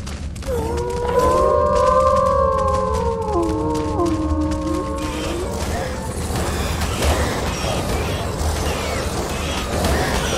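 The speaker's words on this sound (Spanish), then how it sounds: "así que ladra, Nico." A tamed creature in Ark: Survival Evolved on The Island map gives several long wavering howls that overlap for about five seconds, loud and clear, then gives way to steady game ambience.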